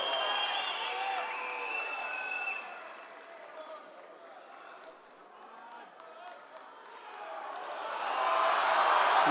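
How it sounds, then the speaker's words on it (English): Crowd at a strongman log lift event in Leeds, cheering and applauding loudly at the start, easing to a lower murmur, then swelling again into a roaring burst at the end, with a commentator talking over it. "The crowd here in Leeds revving him up, Bill."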